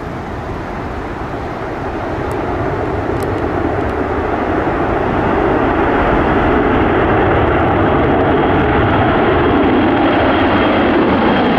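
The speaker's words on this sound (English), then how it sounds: "This Boeing 747 taking off from Amsterdam into a crosswind." Boeing 747 taking off from Amsterdam into a crosswind, its jet engines a loud, steady roar that swells over the first seconds and then holds strong and close.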